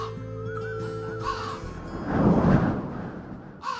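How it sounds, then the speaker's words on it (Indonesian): Crows caw in a horror story soundscape, a couple of harsh drawn-out calls over a low rumbling hum, followed by a swelling noisy whoosh and one last caw; no talk. "Suara burung gagak mulai terdengar bersaut-sautan, menambah aura mistis malam itu."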